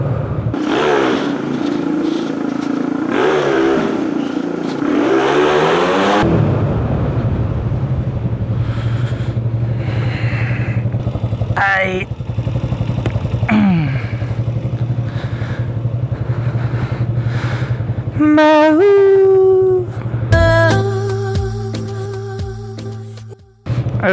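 A motorcycle engine runs close by, with a steady idle rumble broken by rising revs and mechanical clatter, then a final loud stretch of engine noise before it cuts off abruptly.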